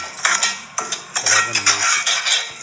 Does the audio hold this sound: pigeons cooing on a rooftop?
no